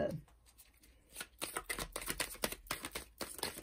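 Tarot cards being shuffled and drawn by hand for a love reading, a close run of rapid, papery riffling bursts after a brief quiet start, with a faint voice nearby.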